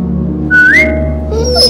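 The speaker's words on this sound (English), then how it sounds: "Now whistle and tell her to lie down." A person whistles to a dog in The Walking Dead game, a short rising whistle followed by a second sliding tone, close and loud with no talking.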